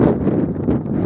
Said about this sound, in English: It's very, very windy and it's just starting to rain.